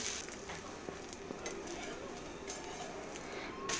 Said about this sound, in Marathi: इथे आता थोडंसं तेल घालायचं आहे एका साईडने मस्त भाजलं गेलं की परतून दुसऱ्या साईडने सुद्धा आपल्याला मस्त असं भाजून घ्यायचं आहे